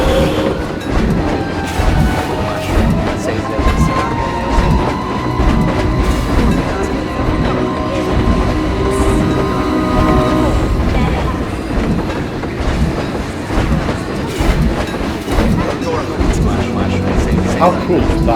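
A roller coaster train in the Planet Coaster video game roars through a tunnel, producing a loud, continuous rumble with rhythmic clattering wheels that holds steady for the full run.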